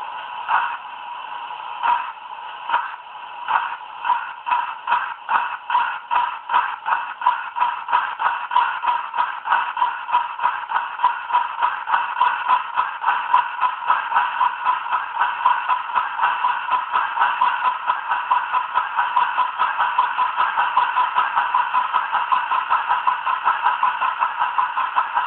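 Model Britannia steam locomotive with a Digitrax sound decoder chuffing steadily, its exhaust beats starting slow and spaced, then quickening into a rapid, even rhythm that continues loudly to the end.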